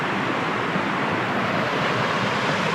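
A river flows right beside a campsite, giving a steady, continuous rushing wash of water that stays even in level throughout, with no voices over it.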